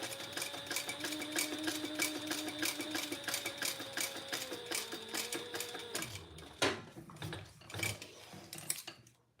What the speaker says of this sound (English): I'm going to turn it over and top stitch right below that card slot